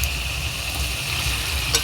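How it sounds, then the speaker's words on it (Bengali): Fried paneer and capsicum going into a pan of curry with yogurt: a steady, loud sizzle and bubbling that continues throughout, with a faint clink near the end. "ভেজে রাখা পনির আর ক্যাপসিকামটা আমি এরপর দিয়ে দিচ্ছি।"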